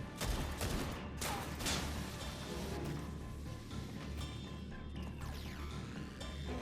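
Gunfire in the Final Fantasy XIV video game, several sharp shots clustered early, then a dense, loud, steady battle wash of game sound effects and clinks.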